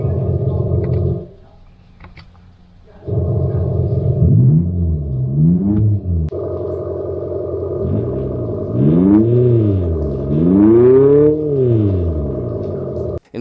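An Abarth 500e electric car plays an artificial engine sound through an external speaker: a steady synthetic hum drops out briefly, returns, then swells and falls in repeated rev-like sweeps, loud and close, ending with a sharp click.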